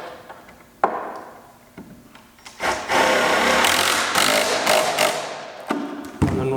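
A power drill drives a screw into a Kreg pocket hole in wood, with short bursts then a sustained whirring run of several seconds, close and fairly loud, ending with brief spins and knocks.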